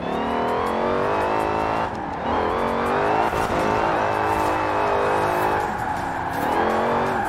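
A Dodge Charger R/T engine in Forza Horizon 4 roars loudly and continuously, revving up and down through shifting pitch with faint tire noise, no voices.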